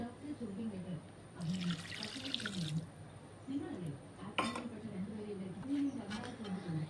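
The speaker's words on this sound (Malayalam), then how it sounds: "ഈ ഒരു പാത്രം വിനാഗിരി ഒഴിക്കുന്നുണ്ട്." Vinegar pouring and trickling into a pot in short bursts, with a person talking quietly over it.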